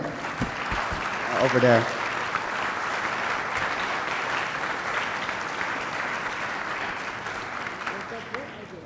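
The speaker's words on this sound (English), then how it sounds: "So a big applause for the event company." Sustained applause from a conference audience at a closing plenary session, a dense steady wash of clapping that fills the room for several seconds, with a brief spoken remark near the start.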